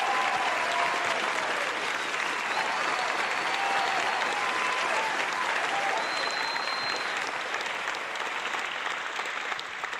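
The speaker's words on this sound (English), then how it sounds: "let's give him a hand clap." A crowd of hands clapping in sustained applause, dense and even throughout, fairly loud with a faint tone drifting beneath.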